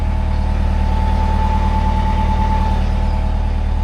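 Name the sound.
boat engine running smoothly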